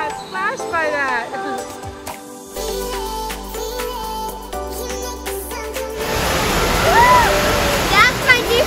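Music and chatter give way to a loud, continuous rush of splashing water from a water slide that swells and lingers for the last few seconds, with voices over it.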